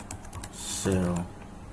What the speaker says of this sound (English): you go to our search bar and then type in PowerShell